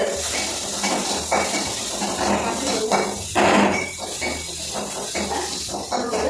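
Capsicum drops into a pan of sautéing carrots for momo filling, giving a hissing sizzle with clinks and scrapes of a utensil against the pan and a louder sizzle burst midway.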